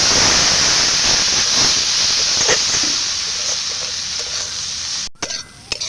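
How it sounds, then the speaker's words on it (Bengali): Fish curry being stirred in a pan just after water goes in, a steady hiss and sizzle with scraping strokes of the spoon, loud and close, then a sudden break and a few clatters at the end. "নাড়াচাড়া দিয়ে একটু জল দেব জল দিয়ে দেব"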